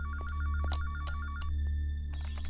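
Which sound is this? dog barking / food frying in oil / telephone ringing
telephone ringing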